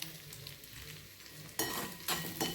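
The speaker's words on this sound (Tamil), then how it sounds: "இந்த தேங்காயை நல்லா வதக்கிடணும்" Grated coconut being fried and stirred in a pan until maroon for sweet paniyaram, a low sizzle broken by a few loud bursts of scraping against the pan.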